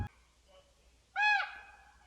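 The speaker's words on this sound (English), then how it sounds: "Apparently I'm being yelled at by a raven." A raven calls loudly at a campground in Wisconsin's Northern Highland, one harsh, strained cry with rising harmonics after a stretch of quiet outdoor air.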